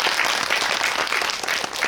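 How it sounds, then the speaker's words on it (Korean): A cinema audience at a film guest-visit event in CGV Yongsan claps briskly and densely in a short, even burst of applause. "두 분의 우정에 큰 박수 한번 부탁드리겠습니다."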